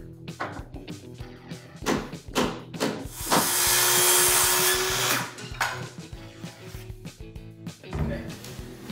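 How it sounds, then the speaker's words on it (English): Power saw cutting trim wood for a built-in dining room storage bench, a loud rising whine lasting about two seconds amid clattering tool and wood knocks, with people talking around it. "Now we're cutting the trim for the bench."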